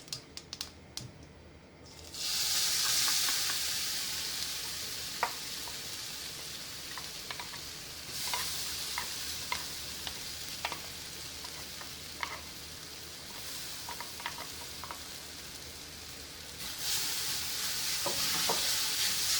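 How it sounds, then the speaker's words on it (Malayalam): Ground coconut paste for a snake gourd and egg thoran sizzles loudly after hitting hot oil with popped mustard seeds, a steady bright hiss broken by repeated scraping clicks of stirring, with no talk. "ഇനി ഇതിലേക്ക് നമുക്ക് നമ്മുടെ അരപ്പ് ചേർത്ത് കൊടുക്കാം."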